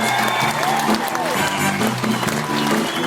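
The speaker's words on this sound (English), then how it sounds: "Please keep your hands clapping and show your appreciation for the entire cast of the Thomson Destiny's Got Talent!" Aboard the Thomson Destiny cruise ship, an audience applauds the talent show cast, steady clapping and some cheering under music with a sung melody.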